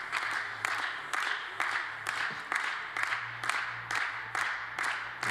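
Hands clapping in a steady, rhythmic beat at a European shooting championship in Estonia, where a spectator claps along with the crowd; the even, regular claps carry on for several seconds at moderate volume.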